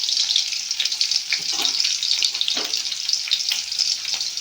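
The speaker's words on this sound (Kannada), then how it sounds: "ಎಣ್ಣೆ ಕಾಯ್ದೈತಿ. ಇವಾಗ ಬೆಳ್ಳುಳ್ಳಿ ಹಾಕ್ತೀನಿ" Garlic drops into hot oil and sizzles, a bright crackling hiss with a few sharper spits and pops, close and steady, nobody talking.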